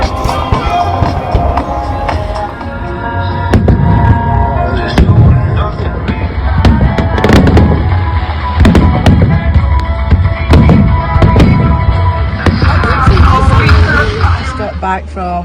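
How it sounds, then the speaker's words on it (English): Fireworks display at the Blackpool International Fireworks Competition, Italy's entry: repeated loud booming bursts with crackling, dense and close, continuing throughout with a steady crowd-like rumble underneath. "we're here at the International Fireworks Competition, and this is Italy's contribution."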